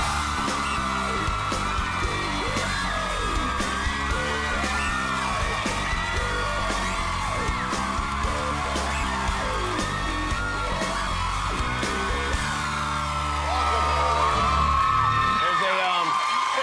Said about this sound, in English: all the screaming has been very bad for her.